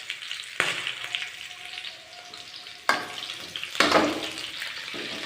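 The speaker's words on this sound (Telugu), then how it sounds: "టమాటాలు కూడా వేపుకోవాలి." Chopped tomato and a small piece of onion frying in a pan: a steady, close sizzle with a few louder bursts and scrapes as the pieces are moved, no voices.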